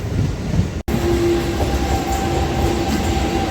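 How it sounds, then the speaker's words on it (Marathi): Inside a moving Mumbai suburban local train, a loud, steady rumble of wheels and carriage fills the space, with a brief cut near the start and a faint squeal running underneath. "आणि आता मी ट्रेनने चाललो आहे"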